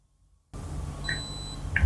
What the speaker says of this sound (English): long press and you will hear a beep